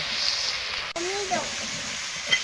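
Chopped tomato and ginger paste frying in a pan for a koi and shing fish curry with potatoes, a steady hissing sizzle close up with a brief clatter and a voice speaking over it.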